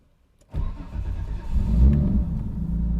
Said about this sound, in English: So what I'm going to do right now is fire up the engine here